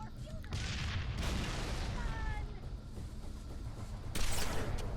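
Sniper rifle and other gunfire in a remastered Halo 3 mission on Sierra 117, heard as booming shots and rumbling blasts in a busy game mix, with a loud burst near the end.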